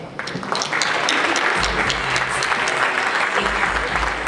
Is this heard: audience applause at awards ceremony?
yes